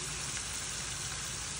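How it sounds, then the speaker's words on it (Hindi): Potato pieces shallow- or deep-frying in oil in a kadai, a dense, steady sizzle that holds at an even level throughout with no talk. "साथ साथ में अपने आलू को भी फ्राई कर लेंगे।"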